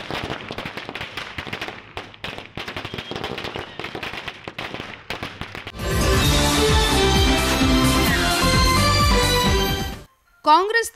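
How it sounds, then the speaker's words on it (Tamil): Firecrackers burst at a farmers' celebration in India, first a rapid crackling string of sharp pops for several seconds, then a dense, loud roar of continuous explosions before a brief gap. "பட்டாசுகளை வெடித்தும் அவர்கள் தங்களது மகிழ்ச்சியை கொண்டாடினார்கள்"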